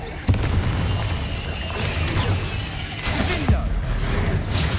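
Fiery Confringo spell blasts in Hogwarts Legacy combat, a sharp explosive burst followed by several crackling impacts and rumbling hits amid ongoing battle noise.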